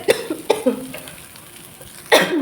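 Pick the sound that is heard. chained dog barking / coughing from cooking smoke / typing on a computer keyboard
coughing from cooking smoke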